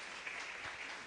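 A church congregation claps together during a Spanish-language worship service, a faint, steady wash of many hands sustained throughout with no clear voices over it.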